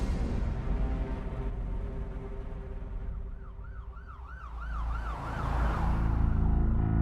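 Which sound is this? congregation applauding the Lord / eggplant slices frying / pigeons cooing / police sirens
police sirens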